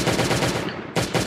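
Rapid machine gun fire in the video game Last Day On Earth, a dense burst of quick repeated shots, a brief pause, then the firing resumes, loud and close.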